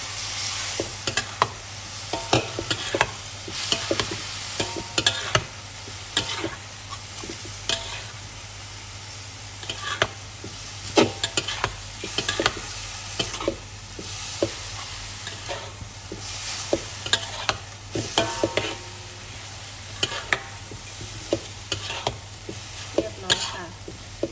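Instant noodles stir-fried with chili, basil and minced pork in a hot pan, giving steady sizzling under busy, repeated scraping and tossing of a spatula, close and loud.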